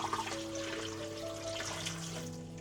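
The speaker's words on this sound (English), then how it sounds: "fill your sink with warm water" Warm water runs steadily from a tap into a sink, a soft continuous splashing and trickle, fairly quiet and without talk.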